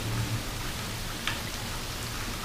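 Steady heavy rain from Hurricane Harvey, a constant dense hiss of downpour at an even level with one faint brief tap partway through and no voices.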